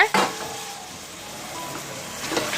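Potatoes and peas with mashed tomato sauté in a hot pan with a soft, steady sizzle, stirred once or twice near the start and end, with no talking.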